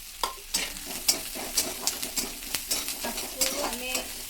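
Chopped onion and green chili frying in a pan for egg momo filling, a close sizzle broken by repeated utensil scrapes and clinks as the mix is stirred in an irregular rhythm.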